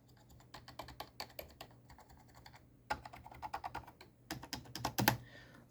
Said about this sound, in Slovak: je to fajn klávesnica, myslím si, že na takéto herné použitie, alebo aj na bežné písanie nie je hlučná